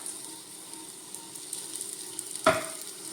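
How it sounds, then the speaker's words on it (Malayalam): Chillies fry in hot oil in a pan for a Kerala-style chilli chutney, giving a faint, steady sizzle with a single sharp clink of a utensil near the end. "മുളകെല്ലാം ഇട്ടു നല്ലോണം എണ്ണയ്ക്കകത്ത് മൂത്തു"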